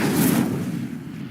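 An Incendio fire spell in the Hogwarts Legacy video game erupts as a loud, rushing burst that roars at the start and fades away over about a second.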